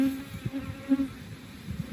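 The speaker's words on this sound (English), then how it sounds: "And these bees are starting to get ticked off." Agitated honey bees buzz around an open hive in a steady droning hum with a few louder swells as individual bees pass close, no talk over it.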